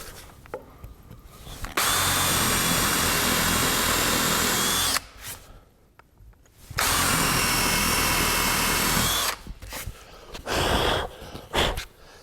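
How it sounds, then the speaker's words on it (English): A power drill whines steadily drilling dowel holes in wood for a rocking horse, in two long bursts, with short pauses and some scraping and handling noise between them. "all we need to do is drill out the holes."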